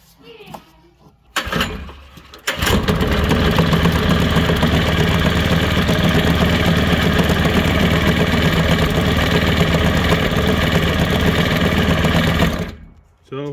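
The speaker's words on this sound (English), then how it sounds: "this motor mount flexes a little bit and causes the belt to kind of bounce back and forth" An electric motor drives the belt of an off-grid chicken plucker whose motor mount flexes and makes the belt bounce. After a brief start-up it settles into a loud, steady mechanical whir and hum that runs unbroken for about ten seconds before cutting off.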